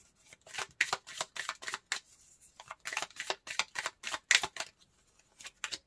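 Tarot cards are shuffled and riffled in quick bursts of crisp flutter and snapping, loud and close, with brief pauses between the runs and no talking.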